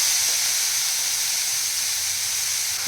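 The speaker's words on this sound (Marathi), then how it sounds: "जी मेथी घेतलेली होती चिरून ती टाकून घेऊया" Chopped fenugreek leaves go into a garlic tempering in hot oil over a medium flame, producing a loud, steady, hissing sizzle that holds evenly throughout.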